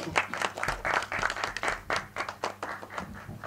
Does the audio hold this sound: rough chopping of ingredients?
no